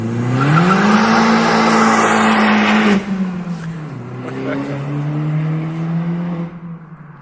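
A 1.8T Golf GTI with a 20V engine and a remap revs hard, loud and close, while its tires squeal, then drops back and revs again, the engine note rising and falling.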